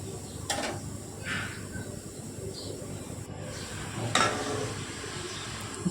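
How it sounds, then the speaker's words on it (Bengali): Beetroot fries in a pan with a soft, steady sizzle, while a utensil stirs it in occasional scraping strokes close by. "দিয়ে ভালো করে আমি নেড়ে চুড়ে ভেজে নেব"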